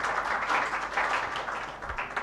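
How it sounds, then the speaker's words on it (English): A summit audience applauds in a short, dense burst of clapping that is moderately loud and continuous throughout. "A big round of applause."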